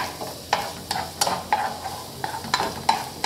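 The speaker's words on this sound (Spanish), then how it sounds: "Le pusimos un poquito de aceite, cazuela, voy a agregar los dientes de ajo." Garlic cloves toasting in a little oil in a pot, a soft steady sizzle broken by several sharp clicks and scrapes of stirring, close and alone with no talk.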